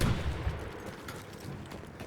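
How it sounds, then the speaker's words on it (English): Gunfire in the Battlefield 1 video game: a couple of heavy, booming shots land at the start, then fade into a rumbling battlefield background. "That guy's lobbing shots at us."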